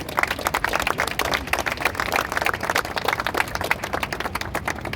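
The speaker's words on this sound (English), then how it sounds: "Let's clap it up for the brothers." A crowd of men at an outdoor Father's Day walk claps steadily for members of the December 12th movement, a dense, continuous patter of many hands with no talk over it.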